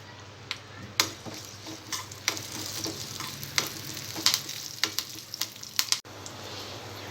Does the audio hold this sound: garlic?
yes